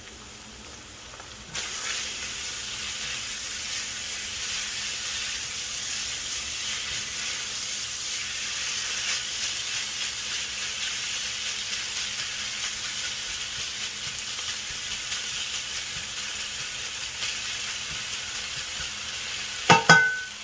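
Sauce hits a hot wok in a chicken and scallion stir-fry, setting off a steady, close sizzle and hiss that holds for nearly twenty seconds, ending in a couple of sharp clanks.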